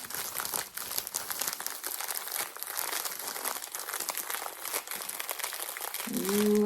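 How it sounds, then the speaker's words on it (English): Bubble wrap packaging is crinkled and crushed by hand in a continuous run of close crackles and small pops, with a brief tonal squeak near the end and no talking. "Ooh, I love me some bubble paper."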